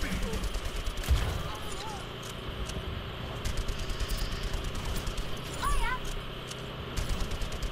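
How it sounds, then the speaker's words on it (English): Gunfire in the video game Overwatch rattles in quick dense bursts through most of the stretch, medium-distant and mixed with game effects, with a few sharper shots near the start and around the sixth second. "there's a person up over here to the right that was shooting at us"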